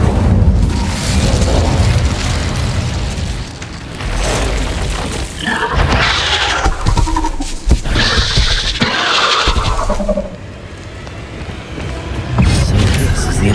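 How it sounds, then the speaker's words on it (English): Explosion from an Incendio spell in Hogwarts Legacy, set in a cave: a loud, prolonged booming roar and rumbling blasts with bursts of crackle, sustained close and heavy throughout. "So this is the infamous explosion."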